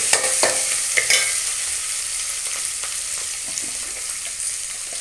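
Onion and tomato sautéing in a pan make a constant bright sizzling hiss, with light stirring scrapes near the start and scattered soft crackles throughout.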